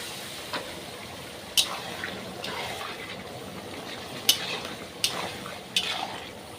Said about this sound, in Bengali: জল দিয়ে একটু কষিয়ে নেবো ভালো করে